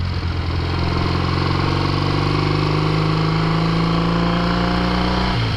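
A 1968 Triumph Bonneville cafe racer's British twin engine idles steadily with a deep, throbbing exhaust rumble, close and constant throughout.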